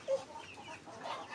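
Soft, low clucking from 45-day-old chickens close by, brief and fairly quiet over a faint background.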